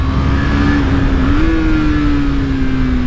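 A 2023 KTM RC390 sportbike engine is held at wide-open throttle up through the gears, a loud, sustained, close buzzing roar whose pitch climbs steadily and then dips briefly at a shift.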